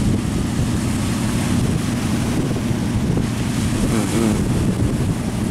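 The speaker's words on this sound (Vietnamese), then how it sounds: "Vô tới đây thì mình mới nghe rõ được cái tiếng máy á." A Hino engine drives a heavily loaded boat at full power, a constant loud roar mixed with wind and water noise that goes on without a break.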